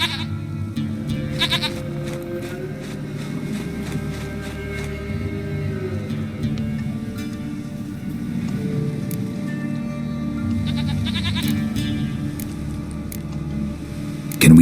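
Goat bleats from The Witcher 3 game, several bursts around the start and again near eleven seconds, set against a steady low musical and ambient bed with no talking.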